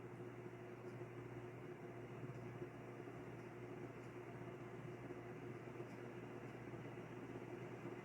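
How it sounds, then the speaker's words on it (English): A Dayton 36-inch industrial ceiling fan with dry bearings gives a steady, unbroken mechanical whir and hum, a constant droning tone under faint broadband noise, with no pauses and no voices. "It's still making a little bit of dry bearing noise, I notice."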